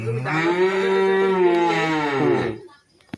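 A very large cow of about 320 kg live weight, brought to a cattle market, gives one long, loud, close moo lasting around two and a half seconds, then falls quiet.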